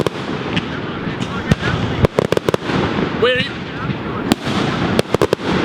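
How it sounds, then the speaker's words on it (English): Fireworks burst in a rapid irregular series of sharp cracks and pops at a public display, loud and fairly close, with a whistling rocket rising midway and people talking throughout. "Dude, I'm at fireworks right now."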